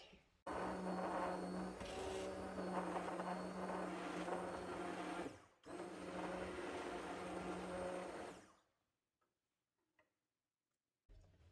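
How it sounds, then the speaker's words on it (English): A motorized immersion blender whirs loudly and steadily through a homemade hair-wash mixture, pauses briefly, runs again for a few seconds, then cuts off into near silence. "I'm going to go and use the immersion blender"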